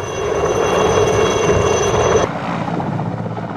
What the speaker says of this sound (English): The workhorses, especially for the far-flung outposts in the northeast, are the ubiquitous Mi-8 and the Mi-17 medium helicopters.